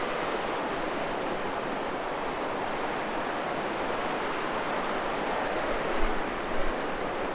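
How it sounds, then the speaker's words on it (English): Large ocean waves breaking on a beach, heard as a steady, loud broadband roar of surf that holds level throughout, with slight swells near the end and no voices. "And the waves, huge today."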